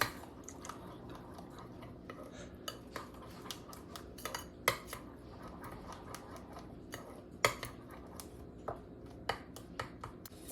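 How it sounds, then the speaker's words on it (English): A utensil stirs milk into apple fritter batter in a bowl, with irregular clinks and scrapes against the dish at a fairly quiet level. "And we'll mix that in good and let it set to the side."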